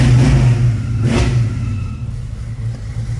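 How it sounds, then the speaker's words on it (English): A built small-block V8 in a 1966 Chevy Nova (Chevy II) with a 4-speed revs nearby, giving a deep, rumbling burst early on before settling into a loud, lumpy idle. "That's a good sounding car too."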